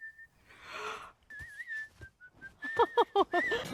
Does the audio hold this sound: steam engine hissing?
no